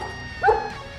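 A single short dog bark at a stranger, sounding once mid-clip and fairly close, standing out briefly over quiet background.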